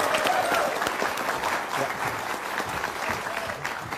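A studio audience at an Indonesian televised motivational talk show applauds volunteers called to the stage, with dense, loud clapping that fades slightly over several seconds as a voice briefly speaks.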